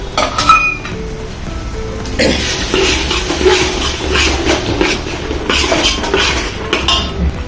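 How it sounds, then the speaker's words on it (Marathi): Peas and ivy gourd sautéing in oil in a pot, with metal utensils clinking against the pot early on, then a steady, broad sizzle-like hiss that carries through to the end. "वटाणा तोंडली हा पत्ता, सर्व जिन्नस सोडून आता चांगले तेलामध्ये परतून येतो"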